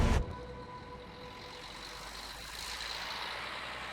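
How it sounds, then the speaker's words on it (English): A school bus roars down a road, heard as a steady, broad engine rumble with a hiss that swells slightly toward the end, fairly distant and without voices. "In the distance, he heard the roar of a school bus coming down the road."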